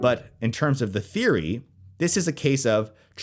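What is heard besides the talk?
No distinct noise like a dog, phone or traffic.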